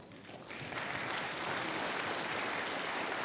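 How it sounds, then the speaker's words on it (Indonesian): An audience claps at an Indonesian award ceremony, the applause swelling within the first half second and then holding as a steady, full crowd sound with no talk over it. "Lagi tepuk tangan untuk Bapak D."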